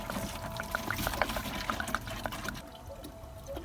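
Water poured out for scattering morel mushroom spores, outdoors at a mushroom-growing site: a steady, soft splashing trickle continues for a few seconds, moderately close and fairly quiet, with no talk over it.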